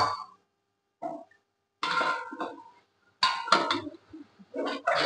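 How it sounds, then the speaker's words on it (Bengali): Brass pot of duck curry being handled and covered with a lid, several sharp metallic clanks and rattles in short bursts with brief silences between, close and fairly loud. "এটাকে দিয়ে এবারে ঢাকা দিয়ে রেখে দেবো"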